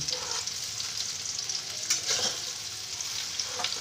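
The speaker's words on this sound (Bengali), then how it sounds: "বেগুনগুলোকে আমি ভালো করে এবার ভেজে নিচ্ছি" Hot oil sizzles and crackles continuously at close range as eggplant fries, with a few sharper spatters standing out from the steady hiss.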